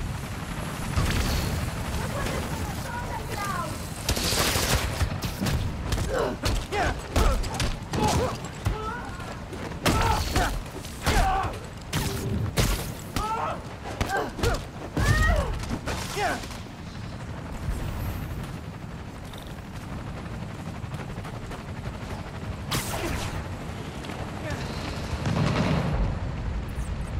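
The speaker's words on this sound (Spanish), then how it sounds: "¡Tengo que ir hacia los disparos!" Gunfire and explosions in the PS5 game Spider-Man: Miles Morales, with repeated sharp bangs and heavy booms across a dense, chaotic action mix, while voices speak over the top of it.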